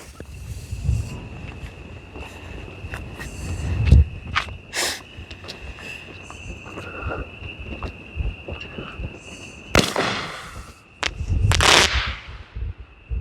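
A Cutting Edge Rapid Fire roman candle firework shoots off in a series of sharp pops and cracks with crackling bursts, heard from nearby outdoors, with a steady whine behind.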